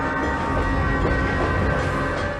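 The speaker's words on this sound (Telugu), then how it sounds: "ట్రైన్ స్టేషన్ నుంచి బయలుదేరింది," A train pulling out of a station rumbles loudly and continuously, a dense, steady roar of rolling wheels and wagons with no gaps and no voices.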